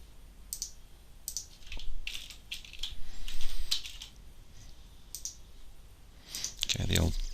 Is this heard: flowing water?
no